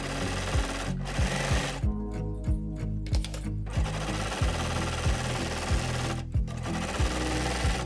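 Sewing machine stitching stretchy crew sock fabric, a steady fast needle rhythm running in bursts with brief pauses, close and moderately quiet, no talking.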